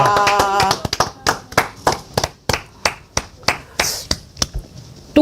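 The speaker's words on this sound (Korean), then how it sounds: "박수 한번 칩시다." A small group claps at a Korean political talk show: sharp, separate claps in an uneven rhythm, close and loud, after a stretch of talk at the start.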